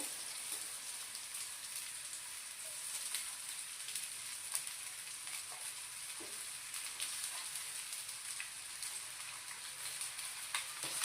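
Leftover rice cooked that morning is reheated by frying in a pan, giving a steady, fine crackling sizzle that sounds like light rain. It runs evenly throughout with no one speaking.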